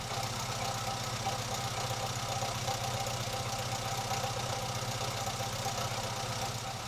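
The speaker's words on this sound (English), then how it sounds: "once he's warmed up we'll have a listen to the exhaust" An Austin A40 Farina classic car engine idles with steady exhaust, a continuous even mechanical drone and rapid low pulsing heard close up, unchanging throughout with no voices.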